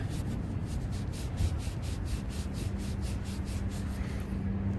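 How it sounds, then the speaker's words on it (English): A soldered copper pipe joint for a half-inch hose bib is sanded by hand to clean off excess flux, a close, steady rhythmic scratching rub repeating in even strokes throughout. "I like to sand the area after I'm done"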